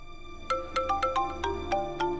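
A phone ringtone chimes in a quick series of bright, melodic electronic tones, about eight pulses in a steady rhythm, clear and close with no talking.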